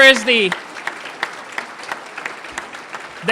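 A voice briefly opens, then scattered, thin handclaps follow from an audience applauding the Smart Cities Challenge team, sparse and irregular rather than a full ovation.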